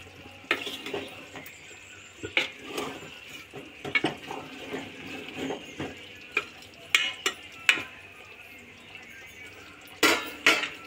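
A spoon stirs chicken masala through a bean and chicken curry in a pot, with repeated scraping clinks and soft wet churning at a steady, close rhythm and no talking.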